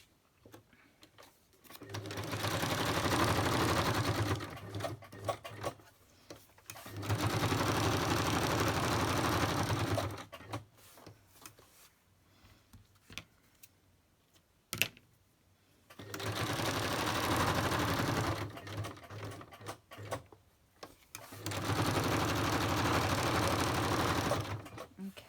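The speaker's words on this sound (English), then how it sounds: "I'm just going to go do straight stitch." A sewing machine runs a straight stitch through paper ephemera, four long whirring bursts of rapid needle chatter, each several seconds, separated by quiet pauses with small handling clicks, close up and with no talking.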